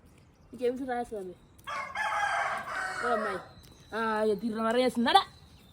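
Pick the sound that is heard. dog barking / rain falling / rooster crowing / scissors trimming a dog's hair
rooster crowing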